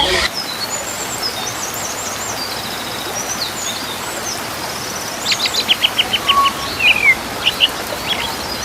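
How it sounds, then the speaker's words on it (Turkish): Wild birds at a zoo chirp and whistle in bright, scattered calls over an outdoor hum. A burst of rapid tweets comes near the end. "burada yaban kuşları var. Seslerini dinleyelim."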